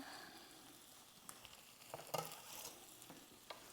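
Food sizzles steadily in a hot pan, with soft crackles and a few sharper pops and stirring clicks over a continuous frying hiss, close up with no talking.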